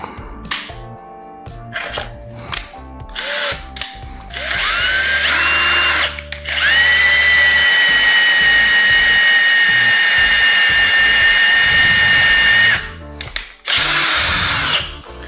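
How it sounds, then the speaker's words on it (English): A Kreg 520PRO pocket-hole jig guides a power drill boring pocket holes into wood: short bursts of whirring at first, then a long, loud sustained drilling run that spins down and is followed by a couple of brief final bursts. "and then start drilling"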